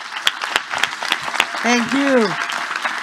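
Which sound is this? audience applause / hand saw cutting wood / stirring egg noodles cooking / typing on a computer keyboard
audience applause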